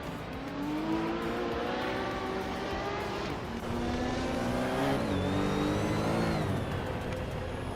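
Several race cars, among them a 1971 Porsche 917, roar off the start line in a racing game, engines revving and climbing in pitch together as one loud, continuous wall of sound.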